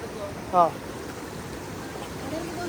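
A steady, low rush of icy water from a waterfall stream at Doodhpathri in Kashmir fills the whole clip, with one brief high chirp near the start.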